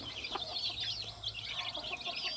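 Chickens cluck softly and repeatedly, a busy flock nearby with no talking.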